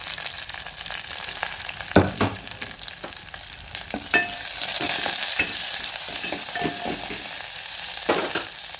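Tempering for massoppu, a mixed-greens dish, sizzles steadily in a pan, with scattered sharp clicks and scrapes of stirring over the constant frying hiss, close up and with no talking.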